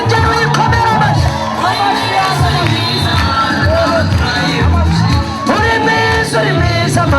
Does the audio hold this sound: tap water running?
no